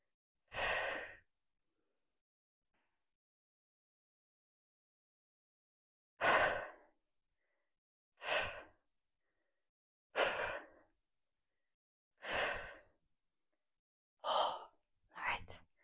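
A person doing an upper body workout breathes heavily, one long breath followed after a pause by five or six sharp, forceful exhales at steady intervals, close and loud against silence.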